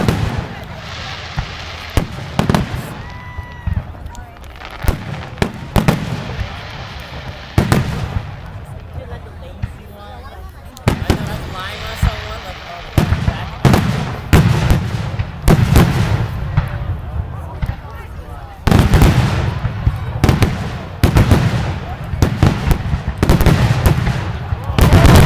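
Canada Day fireworks burst in a rapid, irregular string of loud booms and crackles, near and sustained, with voices talking through the barrage.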